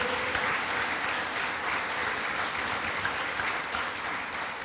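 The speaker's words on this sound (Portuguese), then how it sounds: "Aplauda o Senhor." A church congregation applauds in sustained, dense clapping throughout, steady and fairly close, with no voices standing out.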